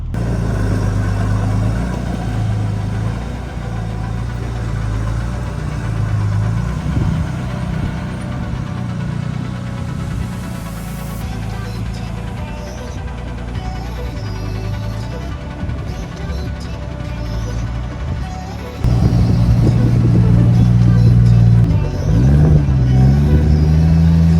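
Manual car on a rough Tasmanian four-wheel-drive track, engine droning and shifting pitch through gears, then revving harder and louder under boost for the final stretch, with no talk over it.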